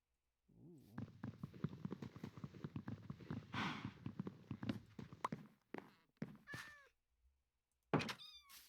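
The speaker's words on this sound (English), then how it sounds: "I hear kitties, I hear all that good stuff." Cats meow several times in a village-building video game, the calls clear and fairly close over a busy bed of clip-clopping hooves and footsteps, with gaps of near silence between the later meows.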